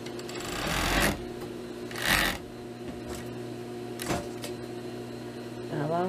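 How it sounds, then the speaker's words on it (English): Sewing machine stitching the side seams of a pleated skirt with pockets, a steady close mechanical hum with rhythmic needle chatter, swelling in short bursts. "We're only going to sew, we're going to sew the sides."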